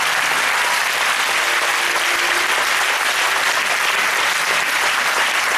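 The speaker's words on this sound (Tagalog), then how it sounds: "Hindi ko po inaasahan ganyan lang kahina ang palakpak niyo." A church congregation during a sermon claps loudly and continuously, a thick uniform wall of applause that stays steady from start to finish with no talking over it.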